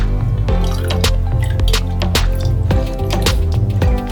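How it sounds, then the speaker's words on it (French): Chestnut liquid strained through a fine sieve: steady dripping and trickling with wet squishing, close and fairly loud, with no voices. "Je filtre avec une passoire fine pour récupérer un jus bien propre."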